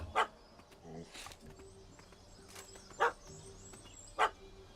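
Dog barking in The Witcher 3 video game, three short sharp barks spaced out over a quiet backdrop, with faint game murmur and a brief vocal sound between them.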